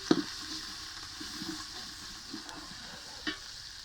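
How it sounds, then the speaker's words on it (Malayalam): Ginger garlic paste sautéing in a pan, a quiet steady sizzle with a few soft stirring clinks and scrapes, close and alone. "അപ്പോൾ ജിഞ്ചർ ഗാർലിക് പേസ്റ്റ് നമ്മൾ ഇതിനകത്തിടുന്നു."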